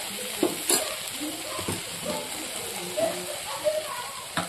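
Water poured into a hot pan of fried greens, producing a close sizzle and frying crackle with stirring clatter and a few sharp bursts throughout.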